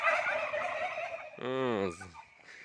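Wild turkeys at a hotel let out a loud, close, rattling gobble after a stretch of busy background noise, followed by quieter rustling.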